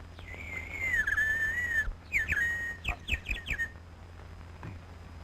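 Birdlike whistled chirping: one long warbling note, then a quick series of short, sharp chirps, fairly close and clear against quiet.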